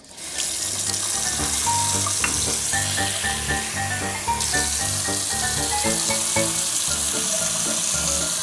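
Water runs steadily from a Moen kitchen faucet with a continuous loud rushing hiss and some tonal gurgling, close by and without pause.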